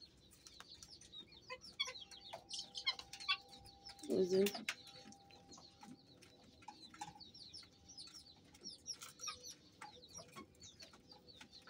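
Backyard chickens and a rooster cluck softly while eating mixed feed, with scattered bird calls and a short close burst of clucking in the middle. A voice speaks briefly.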